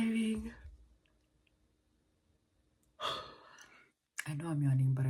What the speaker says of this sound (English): I know I'm yawning